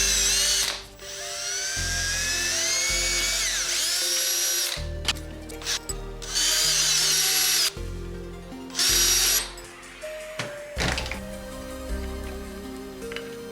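A power drill bores holes through an angle bracket in a workshop, several loud whining bursts of a few seconds each separated by short pauses, close up and with no talking.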